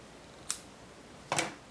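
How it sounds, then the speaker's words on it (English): Scissors snip through pieces of twine at a craft table, two short, crisp cuts about a second apart, quiet and close with no talking. "so I'm going to cut me couple pieces of this."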